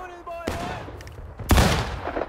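A Civil War-era musket shot goes off in War of Rights, a loud single crack with a rolling tail. A second, stronger report follows about a second later amid battlefield noise, with faint talk underneath.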